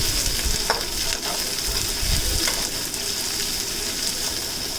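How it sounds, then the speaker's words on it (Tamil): Chopped onion and green chili sauté in hot oil with a steady close sizzle, broken by occasional scraping stirs of a spoon in the pan. "இப்போ நான் நறுக்கி வச்சுருக்க வெங்காயம், பச்சை மிளகாயை சேர்த்து வதக்குறேன்"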